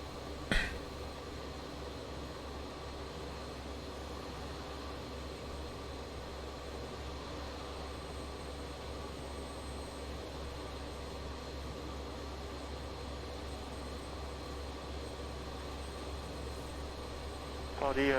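BAE-146 Whisper Jet engines in a flight simulator, running as a steady, even jet drone with a low hum throughout, with short clicks at the start and end.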